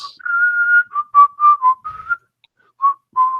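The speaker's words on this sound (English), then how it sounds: "Can I whistle an elevator tune?" A single person whistles a short, bland elevator-style tune, clear and close, with several phrases broken by brief pauses.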